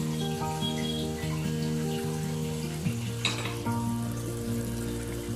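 Potato capsicum masala, seasoned with garam masala and kasuri methi, crackles and sizzles in a pan as it is stirred, a dense, steady frying hiss with a brief burst of scraping, set against a continuous musical backing.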